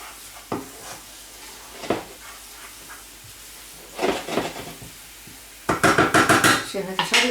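Onion and flour being sautéed in a pan, heard as intermittent bursts of spoon scraping and clattering against the cookware, growing busier and louder toward the end, over a faint background sizzle.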